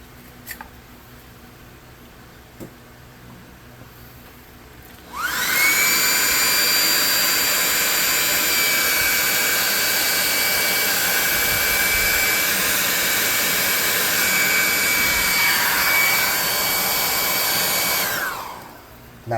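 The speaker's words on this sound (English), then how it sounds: "We'll hit that with the hairdryer." A hair dryer blowing on a tabletop model sailboat switches on with a loud, steady blowing whine, runs continuously for about thirteen seconds close up, then shuts off.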